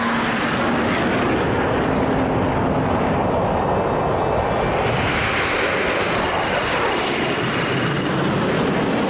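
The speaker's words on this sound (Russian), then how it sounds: "Як-15 с двигателем «Юнкерс»." A Yak-15 jet fighter with a Junkers engine in flight, its loud, continuous roar steady and close throughout, with a faint tone rising near the end.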